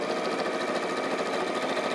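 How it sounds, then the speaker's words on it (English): A sewing machine runs a reverse stitch at the top of a fabric caddy pocket, a fast, even mechanical whir, close and steady for two seconds with no talking. "we're simply reverse stitching just at the top"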